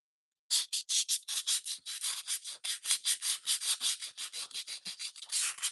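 Body filler being spot sanded by hand over a scratch, a steady run of close, loud, rhythmic scrubbing strokes with no talking.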